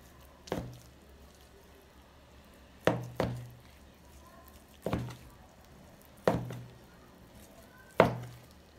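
A knife slices through boiled beef tongue on a cutting board, giving six sharp thuds at uneven intervals, two of them in quick succession, each one close and distinct over a quiet background.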